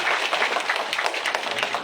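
A crowd at a BJP political event applauds to welcome a guest, giving a dense, continuous burst of clapping that sounds close and fairly loud.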